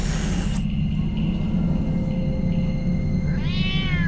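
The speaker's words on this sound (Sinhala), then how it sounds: "මං හිතන්නේ පූසෙක්." A house cat gives a single clear meow near the end, heard close over a steady low rumbling background.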